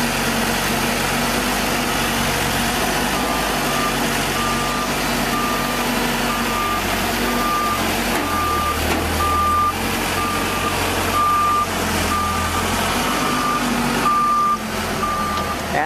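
A telehandler with a very long reach backs up beside a trailer near woods while hauling a heavy load; steady, evenly spaced backup beeps repeat throughout over a continuous low diesel engine drone, no voices.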